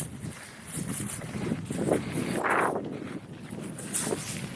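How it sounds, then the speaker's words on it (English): Wind blowing hard during a sandstorm in Mongolia, with a steady broad roar and gusty surges, the strongest around the middle, as buffeting and flapping noise rush past close by with no voices. "A little bit of sandstorm, a lot of wind and a lot of sand."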